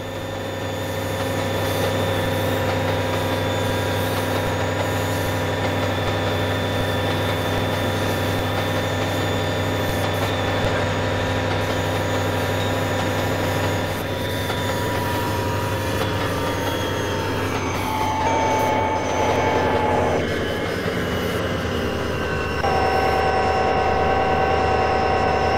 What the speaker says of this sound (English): We finalize our train journey with a cozy ride through the sometimes picturesque Nijverdal.